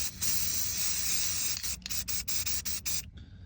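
Aerosol leather restoration product sprayed onto a car leather seat: a long continuous hiss for about a second and a half, then a run of short, separate bursts, close and fairly loud, with no talking.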